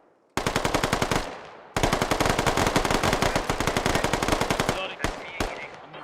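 Close, loud bursts of rapid automatic machine-gun fire in a multiplayer military shooter game, one short burst then a long sustained stream, ending in a few scattered single shots.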